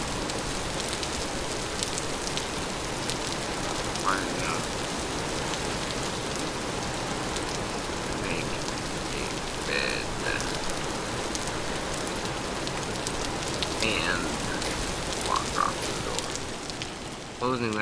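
Steady rain patters continuously on surfaces in the Vintage Story video game, a dense even hiss with faint scattered ticks and a low crackle underneath, while a voice briefly talks over it.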